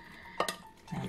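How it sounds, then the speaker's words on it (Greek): Onions being stirred into sauce in a pot, made for rooster in red wine sauce: a couple of quick, close utensil clinks against the pot over a soft simmering background. "θα ανακατέψουμε λιγάκι τα κρεμμύδια με τη σάλτσα μας"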